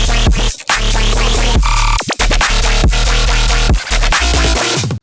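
Deep, heavy synth bass designed in Serum for a track, loud and dense, playing sustained low notes in a steady pattern with brief dropouts, no voices.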